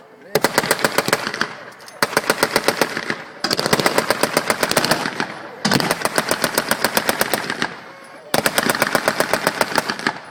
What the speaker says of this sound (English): British there using an American Browning machine gun, managing to get the Germans' heads down.